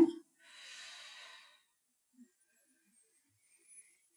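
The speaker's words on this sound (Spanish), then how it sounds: "Seguir respirando porque la respiración es muy importante." A single deep, slow breath in a quiet room, one long airy inhale lasting about a second, then near silence with only faint small noises.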